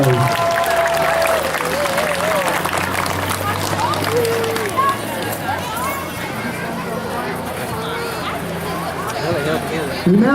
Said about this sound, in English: Let's give our second grade and first grade one more big round of applause